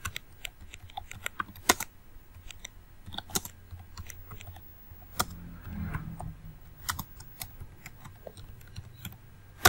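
Computer keyboard typing as a message is written for a Facebook post: quiet, irregular key clicks in short bursts with scattered louder taps, alone without speech.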